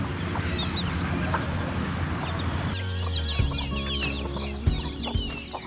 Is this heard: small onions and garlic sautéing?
no